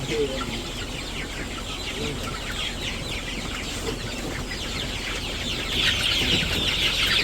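Many chickens, about 500 on a poultry farm, cluck and chatter together in a steady, busy din, fairly faint and continuous, growing slightly louder near the end.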